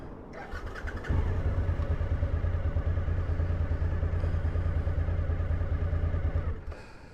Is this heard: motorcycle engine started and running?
yes